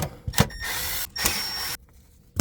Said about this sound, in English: Go ahead and take these screws out.